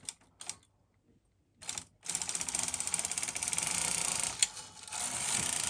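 A Knitmaster ES-302 automatic knitting machine's carriage sweeps across the needle bed with a fast clattering ratchet, following a few short mechanical clicks and brief pauses, close and steady.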